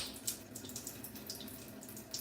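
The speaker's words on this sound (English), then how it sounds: "that happens by just turning on the water" Water runs steadily from a household tap into a sink, making a continuous splashing wash with small bubbly spatters. It sounds close and fairly quiet, with no voices over it.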